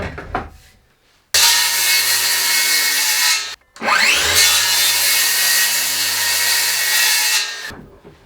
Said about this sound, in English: I'm just going to make a bunch of cuts with my saw.